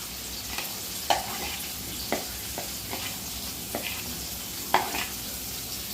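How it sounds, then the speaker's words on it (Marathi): Onion sizzling and frying in a pan for an okra dish, with a steady soft hiss and occasional stirring clinks or scrapes spaced every second or so, close and moderate in level, no talk. "आता आपण याच्यात कांदा टाकू"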